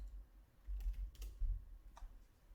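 A computer keyboard is typed on in short, quiet bursts, with a few light clicks clustered together and a soft low room hum underneath.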